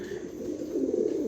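Pet pigeons in a loft give a low, soft, continuous coo that swells slightly toward the end of the short stretch, faint and close with no talking.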